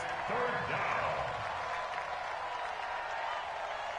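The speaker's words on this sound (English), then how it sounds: "the crowd getting into it as we come up on a big 3rd down" A crowd roars and applauds steadily in a PS4 American football video game ahead of a big third down, a broad continuous swell of cheering with a brief rise near the start.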